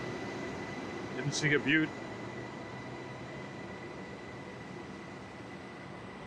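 A Swiss-built TEXRail commuter train passes in Fort Worth as a steady, faint low rumble, with a short spoken comment partway through.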